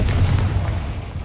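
A deep, loud blast from the Confringo fire spell in Hogwarts Legacy, a single booming burst that rumbles out and fades within about a second.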